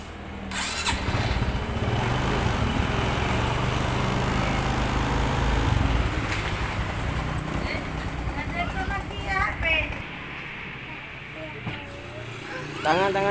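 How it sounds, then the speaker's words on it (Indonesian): A motorcycle engine, started with a homemade battery, turns over and runs as a steady rumbling drone that thins out near the end, while a person talks over it. "saya akan starter lagi."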